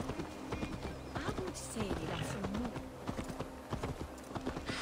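Horse hooves clop in a fast, steady rhythm in the video game Assassin's Creed Valhalla, mid-loud under continuous game ambience, with someone talking over them.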